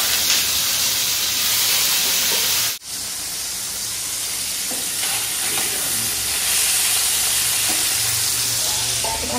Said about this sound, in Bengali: ফ্রাই প্যানে পনিরটা বসিয়ে দেবো।